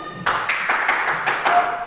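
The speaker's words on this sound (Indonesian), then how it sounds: "Tepuk diam dulu" A classroom of pupils performs the tepuk diam clapping routine, with sharp group claps in a steady rhythm of about three or four beats, close and fairly loud in an indoor room.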